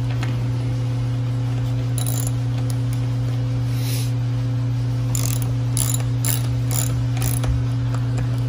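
A ratchet clicks in quick bursts while tightening bolts on a 125cc mini jeep under assembly, the sharp pawl clicks loud and close over a steady low hum, with no talk.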